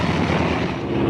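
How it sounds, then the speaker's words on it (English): A propeller aircraft engine from a 1937 film serial drones in a dense, steady roar with wind-like rush, loud and close throughout the short stretch. "the propeller and the wiper spinning in opposite directions"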